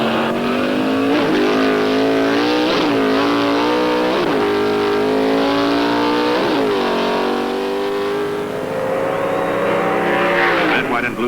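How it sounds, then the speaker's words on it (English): Two Hemi-powered Plymouth Duster Pro Stock drag cars in an NHRA eliminator final at Indianapolis roar continuously and loud, engine pitch climbing and dropping through several rapid gear shifts. "the Pro Stock Eliminator Final saw Arlen Banky racing Sachs and Martin in an all-Hemi Duster contest."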